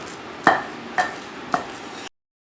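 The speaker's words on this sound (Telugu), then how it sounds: "చింతపండు ఇంకా మనం కాల్చిన ఆనియన్ వెల్లుల్లి నువ్వుల పొడి జీలకర్ర పొడి ఇవన్నీ వేసి దంచుతుంది నాయనమ్మ" A grandmother pounds tamarind, roasted onion, garlic, sesame powder and cumin powder, giving three dull evenly spaced thuds close by, then silence.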